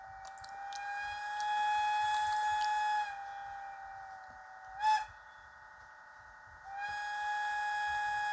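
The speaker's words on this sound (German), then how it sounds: "Wunderschöne Pfeifsignale." Electronic whistle signals from a Piko BR 116 (E 16) model electric locomotive sound as a long sustained tone, a short blip near the middle, then another sustained tone, clear and alone.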